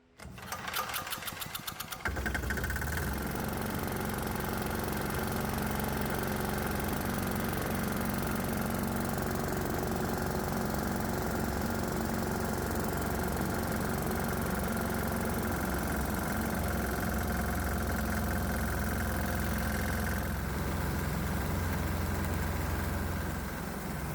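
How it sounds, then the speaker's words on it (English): A 196 cc 3 hp single-cylinder diesel engine runs with its intake port open, a continuous loud, rapid chugging drone that holds steady throughout after a brief start. "I need to run this engine for about 20 minutes to see what the effects are with an open intake port."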